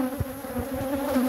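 Honey bees buzz around a mother swarm hive, a dense steady droning hum close to the listener, with brief louder passes of individual bees and no voices.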